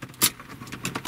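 Car keys jangle in short bright bursts, near and fairly loud, as they are handled at the ignition of a 2004 BMW E46 3 Series, with a faint cabin background between the bursts.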